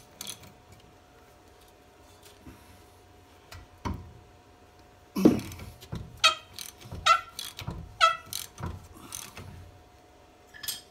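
A 19 mm wrench works a bolt on the rear strut of a 2013 Hyundai Sonata, giving sparse metallic clicks and clanks, a few sharper knocks clustered toward the end, close and fairly quiet.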